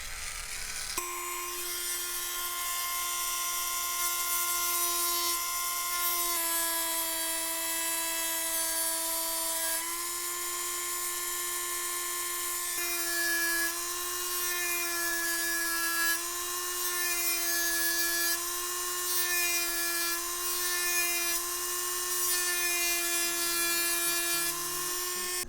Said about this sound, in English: I cleaned that out with the roto tool